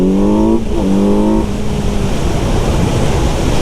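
A 2021 Kawasaki Z900 four-cylinder naked sport bike launches from an intersection and accelerates hard, its engine note climbing through a loud, close rising sweep, then giving way to steady rushing wind and road noise.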